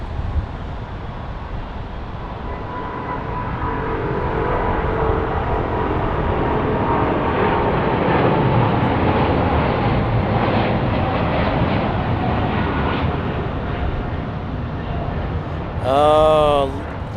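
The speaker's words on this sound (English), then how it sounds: "Oh, listen to that magical sound of those big old engines." A KLM airliner's big engines roar during takeoff at Minneapolis–St. Paul airport, a loud broad rumble that swells and sustains for many seconds before easing, with a brief tonal whine near the end.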